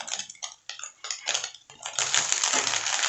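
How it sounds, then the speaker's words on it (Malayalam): Fried chicken is tipped into a pan of roadside-style chicken fried rice: several sharp metallic clinks and scrapes of a utensil against the pan, then a steady, loud sizzle as the pieces hit the hot pan. "ഈ ചിക്കൻ ഫ്രൈ ചെയ്തത് ഇതിലിട്ട് കൊടുക്കാം"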